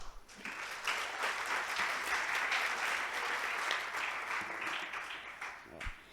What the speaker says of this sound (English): Another round of applause for Dennis, please.